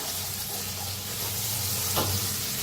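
Green chillies being mixed with garam masala and salt in a hot pan, a constant close sizzle with a stirring scrape swelling near the end.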